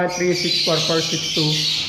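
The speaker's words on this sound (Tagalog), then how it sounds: "ang ingay ng mga ibon" Flock of birds for sale squawking loudly and continuously nearby, harsh repeated calls crowding together, with someone talking over them.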